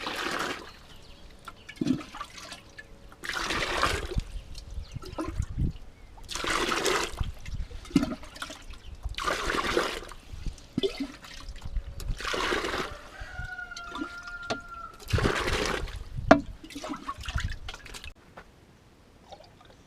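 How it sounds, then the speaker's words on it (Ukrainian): Water poured from a container onto strawberry plants in a garden, splashing in repeated bursts about every two and a half seconds, fairly close, with gentle dripping and trickling between pours and no speech. "потрібно клубніку підлити водою."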